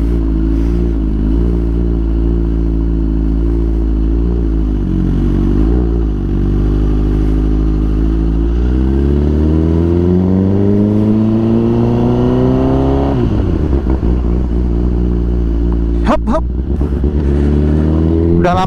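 A Honda CBR1000RR motorcycle engine drones loudly up close while being ridden, its pitch climbing steadily under acceleration, dropping sharply at a gear change, then rising again, with wind rumble underneath.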